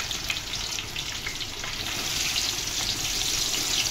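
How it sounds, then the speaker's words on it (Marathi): Onion frying in hot ghee gives a steady, close sizzle with a dense hiss and faint crackle that stays even throughout, with no talking. "कांदा टाकून घ्यायचा."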